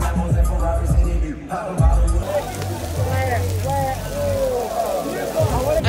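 Rain falling at an outdoor basketball game, a steady patter and splashing on surfaces that runs throughout beneath people talking nearby.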